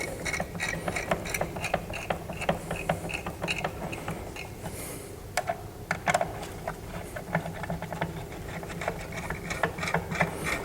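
Screws on a CPU liquid cooler are tightened in a cross pattern during a PC build, producing a run of close, crisp ratcheting clicks and small metallic mechanical ticks at an irregular pace, without talk.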